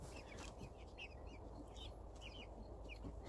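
Rhode Island Red hens in a coop give soft, faint clucks and short calls that come and go over a steady background hiss.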